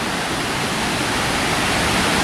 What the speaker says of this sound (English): Can you hear that waterfall right there?